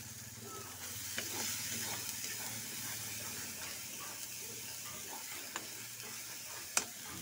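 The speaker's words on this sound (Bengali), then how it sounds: "এখানে মশলাটা কষানো হচ্ছে" Spice paste frying and being stirred in a pan, a steady soft sizzle with occasional scraping clicks and one sharp tap near the end, moderately close and continuous.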